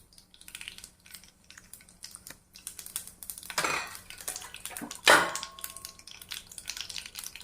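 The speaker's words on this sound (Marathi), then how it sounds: "यात टाकूया जिरी मोहरी" Cumin and mustard seeds drop into hot oil in a pan as a tempering for dhaba-style chole bhaji. Two sharp sizzling crackle bursts stand out over a low kitchen background with faint clinks, and no one speaks.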